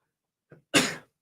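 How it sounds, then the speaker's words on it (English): A single sharp sneeze up close, preceded by a brief quick inhale, then silence. "Hold on, I gotta sneeze."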